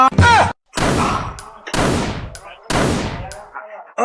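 A toy gun made from a banana tree fires three loud, sharp bangs at even intervals. Each bang has a decaying tail, and a brief voice sounds at the start.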